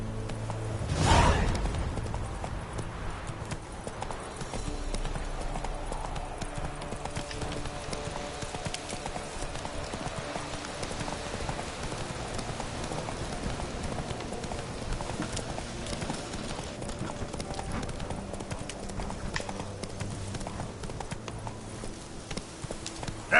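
Hooves of Roach, the horse in The Witcher 3: Wild Hunt video game, clop in a fast, continuous gallop, loud and close, with game music and ambience underneath.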